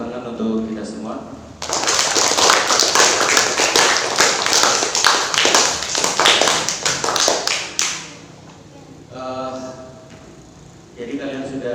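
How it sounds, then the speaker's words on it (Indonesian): Audience applause at a school presentation on positive culture, a dense burst of clapping lasting several seconds before fading, with voices heard before and after. "tepuk tangan untuk kita semua"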